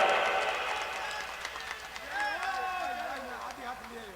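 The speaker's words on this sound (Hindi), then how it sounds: "जोरदार तालियां।" Applause from an outdoor village crowd fades under a loud voice speaking over a microphone, the clapping brief and thinning out within a couple of seconds.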